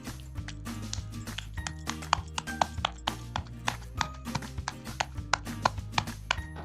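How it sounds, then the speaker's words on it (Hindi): Chicken breast pieces pounded in a wooden okhli mortar for Kashmiri rista, a steady run of dull, close thumps repeating in an even rhythm with no talk. "अब हम इसमें एक और ब्रेस्ट पीस डालेंगे और इसको भी कूटते रहेंगे।"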